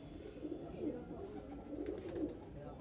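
A white Chinese pigeon, a slender, long-bodied bird kept in a Delhi loft, gives low, throaty coos in a few soft repeated swells over steady background noise.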